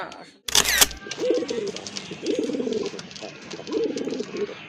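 Soft, low pigeon coos repeat in short rolling phrases, preceded by a brief sharp click and burst of noise, with faint background chatter.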